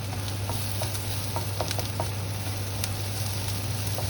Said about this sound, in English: now we add our garlic and our chilies for about another 2 to 3 minutes, just to get all the aromas in